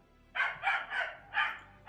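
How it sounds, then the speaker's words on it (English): A Shiba Inu barks repeatedly indoors, five or so sharp, loud yaps in quick uneven succession, close by and with no one talking. "That is my dog losing his mind."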